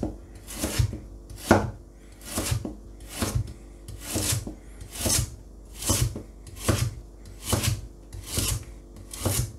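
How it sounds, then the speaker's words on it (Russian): A Japanese nakiri knife chops through a carrot in a steady rhythm, about a dozen crisp cuts against a board, close and clear with no talking. "Очень легко уходит морковь. Вообще очень удобно нарезать"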